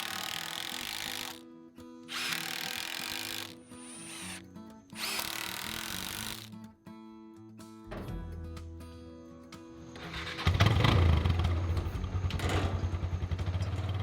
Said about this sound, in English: I attached the supports to the frame with 3-inch deck screws